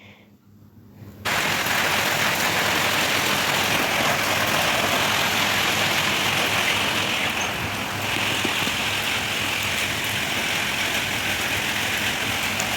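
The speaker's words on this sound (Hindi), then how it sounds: "मैं आपको बारिश की आवाज़ सुना रही थी" Heavy rain pours steadily and loudly after a quiet start, a dense continuous hiss with a low rumbling undertone throughout.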